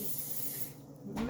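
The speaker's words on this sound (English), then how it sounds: "So I always spray my pans with a little bit of this cooking spray to prevent sticky" Cooking spray hisses from a can onto a pan, a steady broadband spray for about a second before it cuts off, close and fairly loud.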